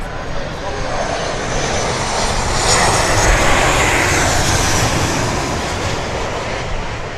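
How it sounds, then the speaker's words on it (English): A WestJet airliner passes overhead at an aviation enthusiast gathering near DFW, its steady, loud jet roar filling the scene and swelling slightly at mid-pass before holding on, with crowd chatter faint beneath it. "I believe that was a WestJet."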